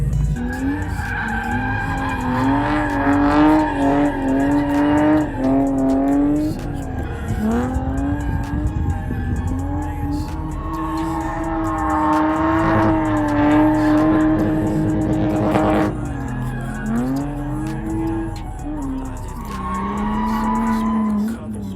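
A Lexus IS300 drifting on a skid pad at Grange/Apple Valley Speedway gives long wailing tire squeals over a revving engine, rising and falling in repeated sweeps, loud and fairly close throughout.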